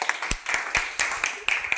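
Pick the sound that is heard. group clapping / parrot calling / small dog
group clapping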